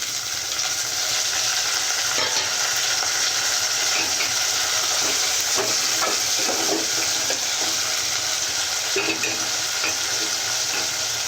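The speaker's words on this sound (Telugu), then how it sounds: "ఉల్లిపాయ ముక్కలు కొద్దిగా మెత్తబడ్డాయండి ఈ టైంలో టమోటాలు సన్న ముక్కలు చేసి వేసుకోవాలండి" Finely chopped tomatoes frying with softened onion pieces in a pan for a spicy black-eyed pea dish, a loud steady sizzle broken by scattered stirring scrapes and clinks.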